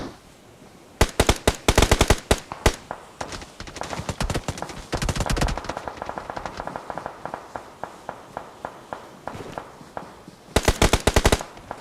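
Bursts of gunfire in an indoor shooting game ring out loud and close as rapid rattling volleys, with short pauses between clusters and a final burst near the end.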